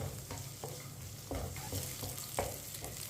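Vermicelli roasting over low heat for sweet seviyan, with a spoon stirring in a pan: a quiet, even crackle broken by several short scraping knocks.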